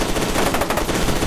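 Rapid gunfire in the shooter game F.E.A.R. 2: Project Origin, a loud, dense burst of automatic shots fired close, packed together with no gaps over a second.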